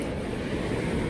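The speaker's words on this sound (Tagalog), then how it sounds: "yung hampas ng alon sobrang lakas" Heavy ocean surf pounding a beach under overcast skies during a shore fishing session, a dense continuous wash of breaking waves with wind rumble, loud and close throughout.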